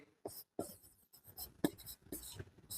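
Writing strokes on a board during an accounting lesson on journal entries: quiet, scratchy bursts of marker or chalk in an irregular rhythm, close by, with short pauses between words and no speech.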